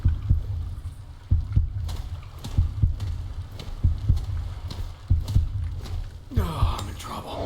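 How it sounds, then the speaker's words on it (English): Low-health heartbeat warning in the video game Remnant: From the Ashes: steady, deep thudding double beats repeat roughly every second and a half, loud and close, with a faint ambient wash and a brief rising swell near the end. "so the heartbeat just means that you're low health"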